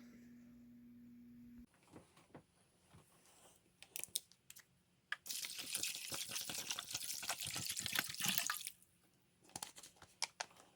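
Rinse water being poured out after washing sea moss, a splashing gush that runs for a few seconds amid scattered drips and handling clicks, close and fairly quiet.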